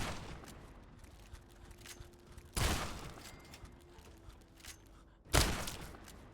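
Shotgun blasts in Fallout 3, two loud booming shots a few seconds apart standing out over quiet game ambience.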